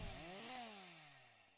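A chainsaw-style sound effect from the Saw O'Lantern unit in the Garden Tower Defense video game: a brief, fairly quiet revving whine that slides downward in pitch and fades out.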